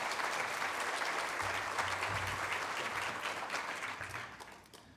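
A conference audience applauds to welcome speaker Brendan Boyle, producing dense, sustained clapping that fills the room and tapers off near the end.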